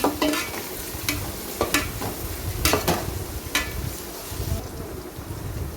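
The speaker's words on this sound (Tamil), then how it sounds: "நல்லா பொன்னிறமாக வதங்கட்டும் அந்த வெங்காயம்" Onions sauté in oil toward golden brown for a one-pot chicken biryani, a crackling sizzle broken by several sharp stirring scrapes and clicks from the pan, close and fairly loud.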